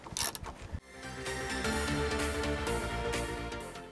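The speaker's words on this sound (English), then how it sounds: "I'll go ahead and use a 7/16 socket to go ahead and pull this nut off over here" Socket wrench clicking as a 7/16 socket works a nut loose from the shift linkage on a cheap salvage-auction boat engine, a sharp metallic knock and then a dense run of rapid ratchet clicks close up, no talk.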